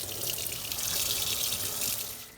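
Water runs steadily from a tap, splashing close and even for a couple of seconds while a resin printer build surface is washed with soap, then cuts off.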